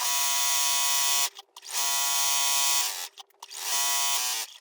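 A sewing machine top stitching the edge of a fabric napkin, giving a steady high motor whir in three runs separated by brief pauses, close and loud.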